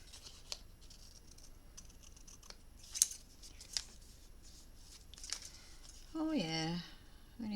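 Trimming the edge of a handmade hardcover notebook, with a few faint scratchy cuts and rustles at low level, then a brief louder passage of voice near the end.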